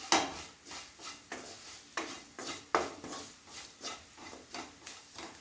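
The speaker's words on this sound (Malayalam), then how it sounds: "1 ടീസ്പൂൺ മല്ലിപ്പൊടി, 1 ടീസ്പൂൺ മുളക് പൊടി ഇത്രയും ചേർത്ത് നന്നായിട്ടൊന്ന് ഇളക്കി കൊടുക്കണം" A spoon scrapes and knocks against a pan while coriander and chili powder are stirred in, producing regular rhythmic strokes about twice a second, close and fairly faint, with no talking.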